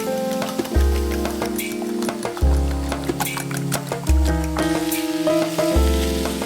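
Onions sweat and sizzle in a 10-inch frying pan, a steady soft crackle running under loud background music and a speaking voice.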